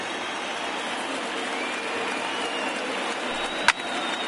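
A crowd of over 39,000 at a playoff baseball game roars steadily in a loud, wide wash of noise, broken once by a single sharp crack.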